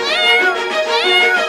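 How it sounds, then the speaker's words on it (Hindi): A cat, likely a kitten, meows loudly and close by inside a house, giving two drawn-out, wavering meows in quick succession with no other sound around them. "वहाँ जॉनी टॉनी के घर में बिल्ली की आवाज आ रही है"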